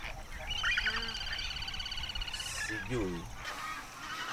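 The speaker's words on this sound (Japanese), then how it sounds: "湖にはたくさんの種類の鳥類。" Mixed waterbird calls rise from the lake at Lake Nakuru, Kenya, where many kinds of birds gather: scattered honking and quacking calls over a steady outdoor background, moderately distant.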